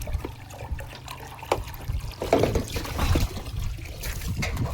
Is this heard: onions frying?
no